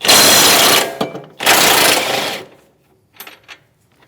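A 21mm socket driven by a power tool rattles out the rear shock absorber bolt on a 2016-2025 Chevrolet Malibu, two loud close bursts of whirring ratchet followed by faint clinks.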